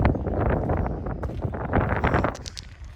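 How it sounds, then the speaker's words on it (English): Strong wind buffets an outdoor microphone beside a twin-turbo Mustang on a gravel driveway, a loud continuous low rumble with gusty swells and no voice. "hopefully you guys can hear me because of the wind"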